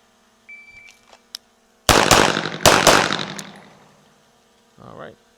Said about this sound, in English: We're shooting my XC today because obviously it's my favorite gun.